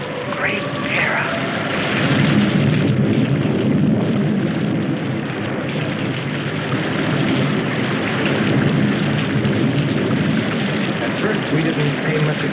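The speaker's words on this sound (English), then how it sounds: "We didn't pay much attention to the rain, though it seemed heavier than any rain we'd ever seen." Heavy rain in a thunderstorm from the 1968 film Voyage to the Planet of Prehistoric Women, a loud dense roar of downpour with rumbling thunder underneath, continuous for the whole stretch.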